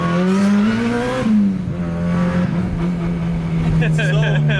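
A Honda Civic EK9 Type R with Spoon calipers, heard from inside the cabin: a steady engine drone climbs and dips with the throttle as it is driven, with people talking over it.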